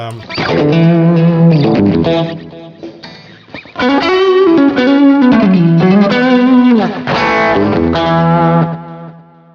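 An electric guitar through a BOSS ME-90 multi-effects unit plays a bluesy, bending lead line with overdrive and a touch of echo, loud and up close.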